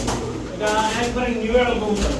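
Laldom pigeons, a running breeding pair, coo in soft repeated throaty calls close by, continuous throughout with a steady background hum.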